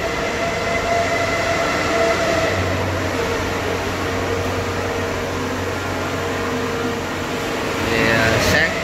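The engine of a Kubota DC 70 rice combine harvester runs at a steady idle, a continuous low mechanical hum with a faint higher whine, while people talk nearby throughout.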